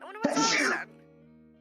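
A single sharp sneeze bursts out loudly, followed by a low steady hum; a voice speaks briefly around it.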